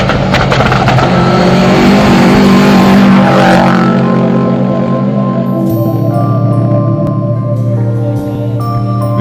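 Rally cars at the Nafplio Sprint rally, engines loud and close with steady droning revs through the whole stretch, one passing early and another engine note taking over midway, no voices.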